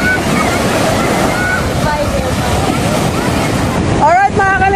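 Strong sea waves break at the beach of Devora Resort in Tangalan, Aklan, where small children play in the surf. The loud, continuous wash comes with wind buffeting the microphone, people talk throughout, and high-pitched voices cry out near the end.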